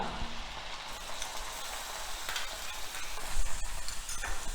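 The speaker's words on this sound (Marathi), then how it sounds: "आता आपण ह्याच गरम तुपामध्ये पुन्हा आलं लसूणची पेस्ट कांदा" Onion and ginger-garlic paste frying in hot ghee for a ghee roast chicken dish, giving a steady, close sizzle with light stirring scrapes that swell briefly louder toward the end.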